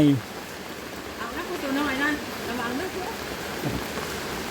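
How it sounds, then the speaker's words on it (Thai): Rain falls steadily outdoors on a Thai rural property with fish ponds, a continuous soft hiss with faint voices murmuring underneath. "ฝนตกดีพี่น้อง"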